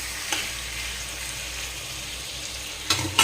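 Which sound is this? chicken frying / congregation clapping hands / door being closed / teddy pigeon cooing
chicken frying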